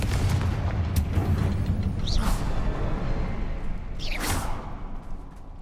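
Fiery Confringo spell blasts in Hogwarts Legacy, set in a mine: dense rumbling combat noise with two sharp whooshing bursts near the start and middle, loud and continuous, no talk.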